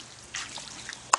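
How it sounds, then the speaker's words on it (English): A child splashes water in a pool, producing brief, soft splashes and drips close by, ending in one sharper splash. "He's splashy."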